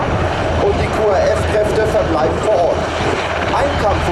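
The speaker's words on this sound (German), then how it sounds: "After the injured person has been recovered aboard the helicopter, they take off again." Steady rotor and engine drone of military helicopters taking off, Bundeswehr H145M, NH90 and Tiger, loud and continuous, with a wavering whine layered on top.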